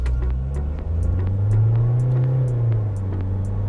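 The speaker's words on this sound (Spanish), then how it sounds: "Lo primero es mostrarles la aceleración, lo pongo en drive." A SsangYong Rexton Sports turbo diesel pickup accelerates hard in drive, its engine drone loud and steady, swelling slightly in pitch over a few seconds with no talk.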